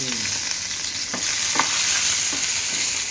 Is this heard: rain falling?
no